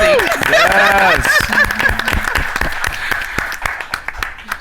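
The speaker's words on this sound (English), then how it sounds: "please also give our production staff a round of applause" Audience applause for production staff at a Black Futures event, broad clapping filling the room alongside loud, overlapping cheering and speaking voices, fading toward the end.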